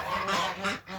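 Geese honk loudly and close by in a quick run of nasal calls, several overlapping.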